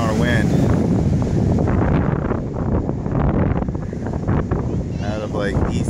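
Strong, steady east-southeast wind of about 20 to 25 mph at Sebastian Inlet roars and buffets the microphone without letup, with a faint wash of water beneath it.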